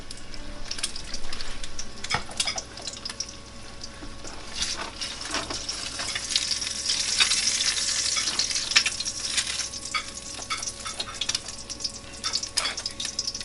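An egg fries in a pan with a steady, close crackling sizzle that holds throughout, rising slightly in intensity midway, with faint utensil clinks and no talking.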